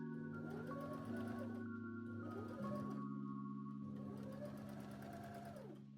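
A sewing machine stitches a dress bodice to a gathered skirt in several runs of steady whirring with short pauses and changes of speed between them. The sound is close, even and fairly quiet, with no talking.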